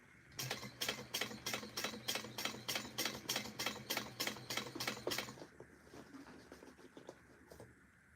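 A hand-cranked sewing machine stitches a tote bag seam in about fifteen evenly spaced, close mechanical clacks, then falls quiet for the last few seconds.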